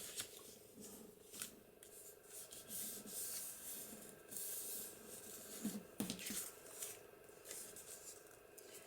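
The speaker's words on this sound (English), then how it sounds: "Now that's going to fold up like that, and this is going to fold like that." Paper is folded and creased by hand to make a journal pocket, producing soft, continuous rustling and rubbing with a few crisper crackles, close and quiet.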